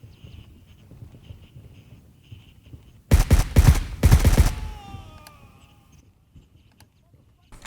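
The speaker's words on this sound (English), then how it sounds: "Shooting in this game is just too loud. Shotgun here." Shotgun blasts in the video game Gray Zone Warfare, a tight burst of several loud, close booming shots over about a second and a half with a ringing tail, after quiet ambient sound.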